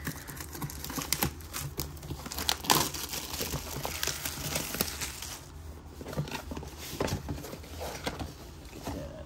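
Plastic wrap crinkling and tearing as a Pokémon Go Elite Trainer Box is unwrapped up close, a steady stream of crackles and rustles with a few sharper rips and no talking.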